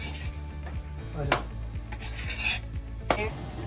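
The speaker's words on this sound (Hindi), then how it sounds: "आटा भूनने का काम सबसे कर्रा काम है इसमें" Wheat flour being stirred and roasted slowly over low heat in a pan, with a continuous scraping of the spoon against the metal and a few louder knocks, close and steady.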